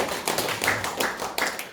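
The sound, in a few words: audience clapping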